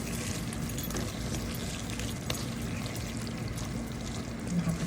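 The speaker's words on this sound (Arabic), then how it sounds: "نحط شوية زيت رومي." Olive oil is poured over pasta with shrimp and sauce in a home kitchen, giving a steady, close pouring wash that lasts the whole few seconds with no talking.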